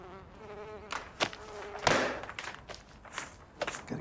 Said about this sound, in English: Gotta get rid of these wasps.